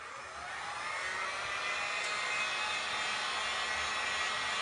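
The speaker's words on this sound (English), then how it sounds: "I'm gonna get my dryer and I am gonna make sure these are all" A hair dryer blows a steady, loud, broadband whir close by while drying painted glass and resin art pieces, holding an even level throughout with no talking.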